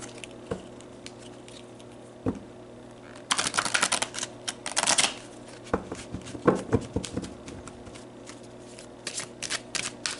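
A deck of oracle cards is shuffled by hand in several quick riffling bursts with short pauses between them, close and crisp, over a low background hum.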